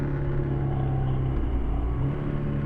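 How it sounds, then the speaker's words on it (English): A 2022 Triumph Tiger 1200 motorcycle engine runs at steady revs with a rough, throaty rasp, heard up close as a continuous rumble. "give the throttle a bit of a twist. I just love that throaty rasp that you get out of it."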